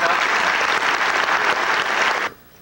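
An audience at a scholarship awards ceremony for students claps steadily for about two seconds, then the applause cuts off into near silence.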